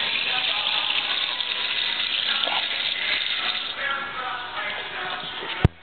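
Water runs from a tap while sushi is prepared, a steady rushing gush that continues throughout and then cuts off with a sharp click at the end.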